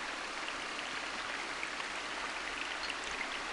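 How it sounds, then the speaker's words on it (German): A waterfall in the creature's cave temple in the Black and White video game gives a steady, faint, even rush of falling water with no pauses. "Diese mit Wasserfall im Tempel"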